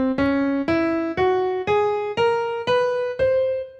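Verdi's Scala Enigmatica plays as an ascending scale of eight clear sustained notes, each struck cleanly and evenly about half a second apart, loud and alone with no voices.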